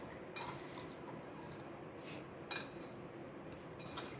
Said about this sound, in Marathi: आता आपण हे सगळं मिक्स करून घेतोय